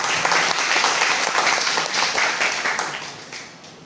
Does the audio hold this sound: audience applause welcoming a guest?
yes